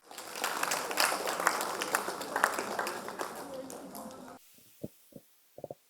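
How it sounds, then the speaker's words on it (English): An audience applauds at a pastry chef's session at the Chennai Literature & Art Festival. Dense, even clapping lasts about four seconds, then stops abruptly and a few short bursts of voices follow. "So is everyone clapping because they want us to wrap up?"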